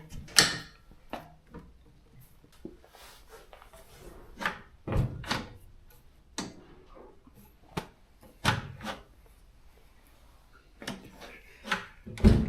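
Several creaks, latch clicks and solid thunks come at irregular intervals as the door of a 1926 Rolls-Royce Phantom I is worked open and shut, heard up close with no talking.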